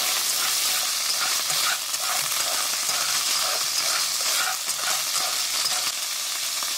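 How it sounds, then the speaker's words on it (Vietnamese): Mushrooms stir-fried with garlic in a pan give a steady, close sizzle with repeated scraping and stirring strokes throughout, no voices. "Rồi cho nấm vào xào khoảng 1 phút."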